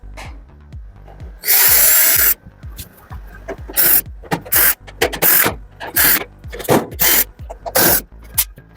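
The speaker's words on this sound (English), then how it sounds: "I have to unscrew all the screws." Screws being driven out of a General Electric oven panel with a power driver during a bottom-heating repair: a long whirring burst, then a rapid series of short buzzing spins with brief clicks between them, close and loud, with no talking.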